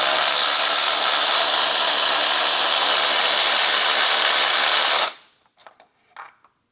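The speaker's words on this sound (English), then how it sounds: "Now we need to remove the spark plug, and I like to use one of these swivel-headed magnetic spark plug sockets." A socket on a power tool spins a spark plug out of a Ford Bronco Sport Badlands 2.0L engine: a loud, steady whirring hiss runs for about five seconds, stops abruptly, and is followed by a few faint clicks.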